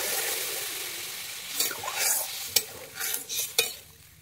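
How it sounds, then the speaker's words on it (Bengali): Water is poured into a hot pan of frying ingredients for a thin fish curry with potato and ridge gourd, giving a soft steady sizzle broken by several short splashy bursts and clatters. "এবারে আমি দিয়ে দিচ্ছি জল।"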